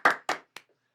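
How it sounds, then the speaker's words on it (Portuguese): Three sharp claps ring out in a quiet podcast studio as guests Wesley and Renatão are welcomed, each one separate and fading quickly, with no voices. "Palmas para eles, palmas"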